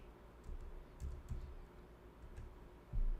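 Quiet, scattered keystrokes tap on a computer keyboard in a few short bursts, soft and close, with a slightly heavier cluster of clicks at the end.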